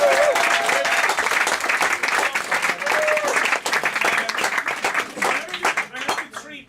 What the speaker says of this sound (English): big round of applause again for Stephen